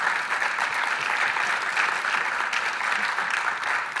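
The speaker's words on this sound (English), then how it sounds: "Give them all one big round of applause, please." An audience applauds at a startup accelerator pitch event: sustained, even clapping from a sizable crowd, steady throughout with no voices standing out.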